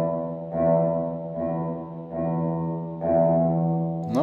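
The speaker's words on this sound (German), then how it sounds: "Na, da ist der Hall da." Electric guitar chords are strummed through a reverb effect, with several sustained strums overlapping in a smooth, lingering wash and a short upward slide at the close.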